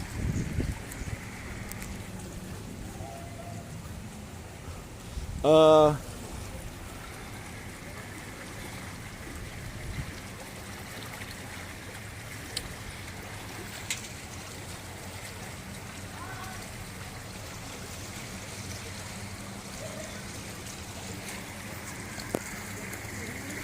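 Strong floodwater current rushing past during a flood rescue, a steady broad roar throughout, with a brief sharp tonal burst near the start and a few faint knocks.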